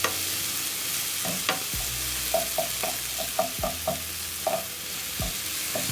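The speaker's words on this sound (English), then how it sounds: "Cook the onions and capsicum until soft." Onions and capsicum seasoned with black pepper, salt and paprika fry in a pan, a steady close sizzle with a series of light spatula scrapes and taps throughout, no talking.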